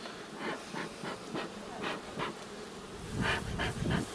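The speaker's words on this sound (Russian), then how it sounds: "тут пчелы летают" Honey bees buzz around an apiary in autumn, with a steady drone broken by repeated nearby swells as individual bees fly close past, growing louder toward the end.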